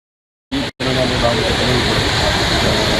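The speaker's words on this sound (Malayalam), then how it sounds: "ഒരു സെക്കൻഡിൽ 7500 ലിറ്റർ വെള്ളമാണ് പുറത്തേക്ക് ഒഴുകുന്നത്" Water rushing out of the opened Ponmudi dam in Idukki makes a loud, steady broadband roar that starts abruptly, breaks off for an instant, then continues unbroken and close.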